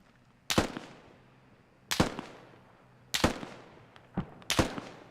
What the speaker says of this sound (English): stand back and yeah, outside of like 10-meter range and just shoot around me